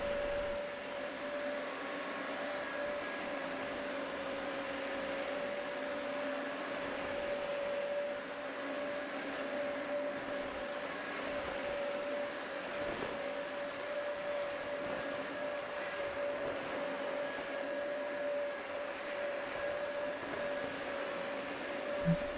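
A carpet steam cleaner runs steadily over a rug in an upstairs hallway, giving a continuous motor drone with a faint tonal whine and no break.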